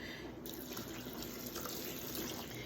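Two cups of water run from a kitchen tap for making sea moss gel, a steady hissing gush that starts abruptly and continues at a constant level to the end.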